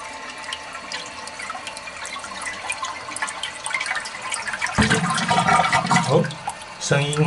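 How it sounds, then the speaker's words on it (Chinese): A toilet flushes just after its flapper seal has been replaced: a light trickle and drips first, then a sudden gush of rushing water that swirls and refills toward the end. "那我们来做第一段的冲水测试"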